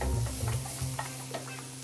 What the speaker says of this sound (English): one red onion. Let that saute a bit.